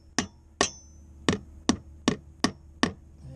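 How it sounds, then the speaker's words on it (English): Seven sharp, evenly spaced hammer blows drive a clamp into place on a Luhrs 28 boat, each strike crisp and close with a brief ring and quiet gaps between. "I'm gonna hammer it in"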